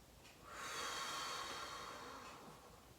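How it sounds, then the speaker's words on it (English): During a stretch and relaxation class, one long, deep breath rushes in and out close to the microphone as a steady, soft hiss that swells and then slowly fades. "Big deep breaths."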